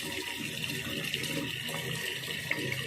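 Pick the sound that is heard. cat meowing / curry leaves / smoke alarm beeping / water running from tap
water running from tap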